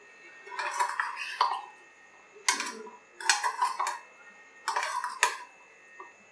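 Paneer is mixed by hand with marinade spices in a bowl, producing four separate bursts of soft clinking and clattering against the dish, with quiet pauses between them.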